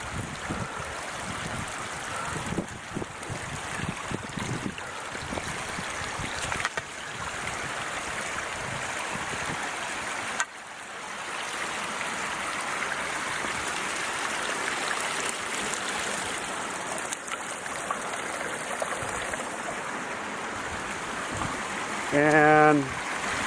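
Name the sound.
spring water flowing across a mountain trail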